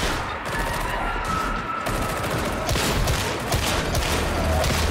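Powerful gun in the Warhammer 40K Darktide video game firing in rapid, dense bursts, a loud continuous barrage of shots with crackling impacts and no talk.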